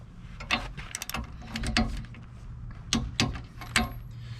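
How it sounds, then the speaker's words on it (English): Ratchet with a 24 mm deep socket tightening bolts on an Equal-i-zer weight distribution hitch, giving several quick bursts of metallic clicking with short pauses between them, close up and fairly quiet. "it actually takes the 24 millimeter socket that I have, and I do a deep socket for this as well, and I'll just tighten these up"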